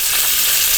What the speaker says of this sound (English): They're spitting and sputtering.